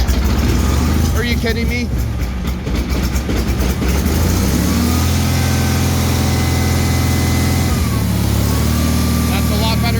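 A Bolens HT-23 garden tractor engine runs steadily at idle with the throttle down, a loud continuous low rumble with a few engine-speed shifts, while a person talks briefly over it.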